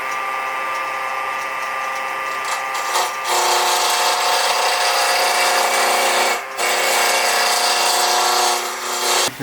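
Wood pen blank spinning on a lathe for an EDC pen as a cutting tool scrapes it, a steady loud hiss and rasp that drops briefly twice before resuming, alone with no talk.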